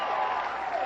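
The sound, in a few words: audience applauding at a comedy club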